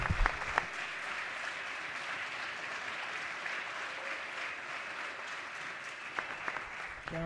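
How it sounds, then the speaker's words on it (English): Legislative chamber applause during a House floor session: a steady, dense wash of many hands clapping for several seconds, fairly distant and even, fading near the end as brief voices return. "I want us to still give a rousing applause"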